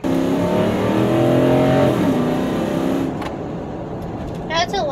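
A Nissan Armada Titan V8 with a new cold air intake revs loudly and steadily up close, the engine note rising and falling before settling to a lower rumble, with a short voice near the end.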